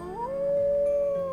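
A wolf in the survival game Vintage Story lets out one long, steady howl that rises briefly and then holds, loud and close.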